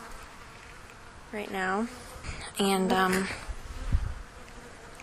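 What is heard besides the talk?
bees buzzing around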